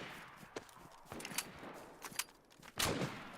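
Scattered gunshots in DayZ crack out at irregular intervals, a few sharp reports with the loudest near the end, over a quiet background with faint movement.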